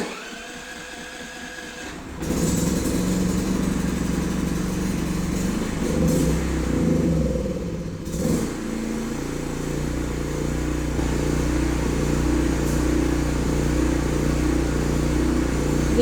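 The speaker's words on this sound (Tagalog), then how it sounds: "Okay na, running na yung generator." A PK4200 portable generator engine firing up after a quiet moment, then running steadily at high RPM with a loud, constant mechanical drone and a brief dip in pitch, alone and close.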